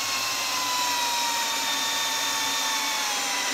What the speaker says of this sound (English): drilling a pilot hole with an aircraft bit